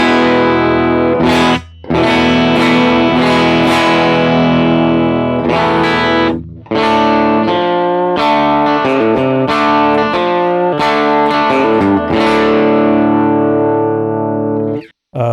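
Electric guitar played through a Vox AC30 amp capture, with short quick strums and riffs, loud driven distorted tone, a run of chords and note runs separated by brief pauses, no talking over it.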